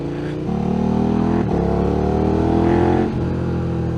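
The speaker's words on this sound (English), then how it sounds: "this bike sounds sensual" A motorcycle engine drones and pulls hard along the freshly resurfaced Bealach na Ba mountain road, a loud close steady roar with pitch shifts suggesting gear changes partway through.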